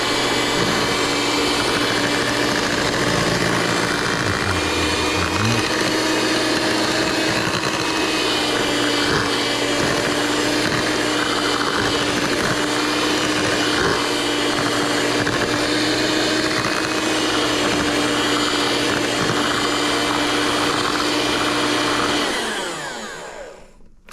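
A steady, loud motorized whir runs nearly unbroken for about twenty seconds while sweet potato casserole is mixed over low heat, then cuts off abruptly at the end.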